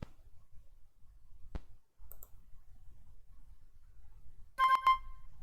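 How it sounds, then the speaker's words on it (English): A short electronic notification chime, two bright tonal blips close together, sounds alone over a faint low background hum during a game of Loom. "excuse me if you heard that notification"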